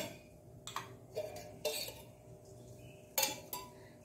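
Frying pan being set down on a kitchen stove before coconut oil goes in, heard as a handful of sharp metallic clanks and clinks spaced irregularly against a quiet background.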